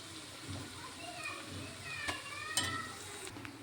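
Eggs being stirred and fried in a pan for egg fried rice, soft sizzling with light spatula scrapes and clinks, faint and close, no voices.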